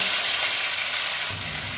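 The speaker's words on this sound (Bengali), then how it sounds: "কিছু চিংড়ি মাছ আছে, ভেজে নেব।" Shrimp fry in hot oil in a pan with a dense, close sizzle and light stirring that runs throughout, easing slightly near the end.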